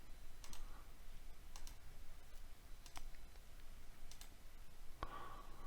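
Sharp, quiet computer mouse clicks sound over a low steady hum, several spaced single clicks during file pasting.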